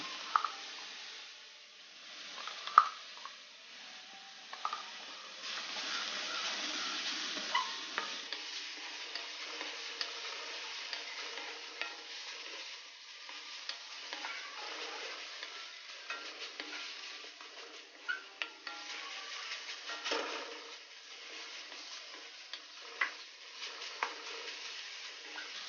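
Halwa made with ground banana cooks in ghee in a pan, giving a soft continuous sizzle broken by irregular stirring scrapes and taps nearby.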